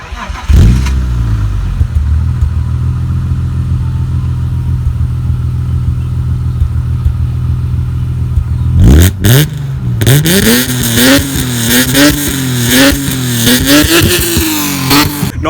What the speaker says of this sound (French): on va essayer de démarrer la voiture pour essayer d'écouter le moteur